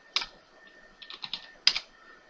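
Keys clack on a computer keyboard in two short bursts, a few quick taps with a pause between, close and fairly quiet, as a command is typed.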